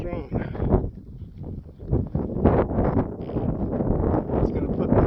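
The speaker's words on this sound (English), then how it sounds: "Wind is strong." Strong gusting wind buffets the microphone on a mountain trail between Devil Fork Gap and Erwin, Tennessee, a rough, uneven roar swelling and dropping throughout, with a person speaking briefly amid it.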